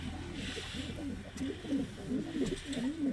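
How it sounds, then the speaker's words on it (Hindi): Many pigeons coo softly and repeatedly nearby, a rolling, rhythmic burble over a quiet background hum. "बहुत सारे कबूतर हैं जी माशाल्लाह बैठे हुए हैं, ऊपर भी बैठे हुए हैं जी।"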